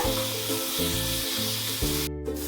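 Onion and half a tomato sauté in a pan, keeping up a constant bright hiss of frying over steady low tonal sounds in the background.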